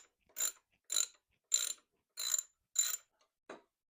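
A ratchet works loose the foot peg on a 2008 Harley-Davidson Sportster being torn down for restoration: six short, close, evenly spaced bursts of ratcheting, the last one briefer, with no talking.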